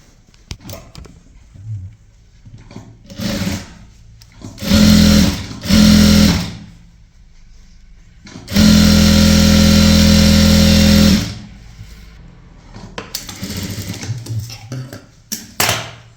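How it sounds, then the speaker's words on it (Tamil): A sewing machine stitching a folded hem on a dress sleeve, running in short loud whirring bursts and then one longer steady run, separated by quiet pauses with faint handling sounds of fabric. "அதை வந்து இது போல் மடித்து ஒரு தையல் போட்டுக்கலாம்"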